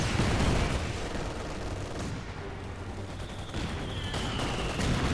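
Sustained gunfire in a Company of Heroes 2 battle between Axis and British forces, a loud, dense rattle of shots and explosions running continuously with a machine gun in the mix.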